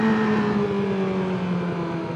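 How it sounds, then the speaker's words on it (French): A 2019 Yamaha R6 sport bike fitted with an SC Project exhaust, ridden at about 50 km/h, gives a steady, slowly falling engine drone with a raspy exhaust note under wind rush. "Le bruit du SC Project il se fait un peu plus"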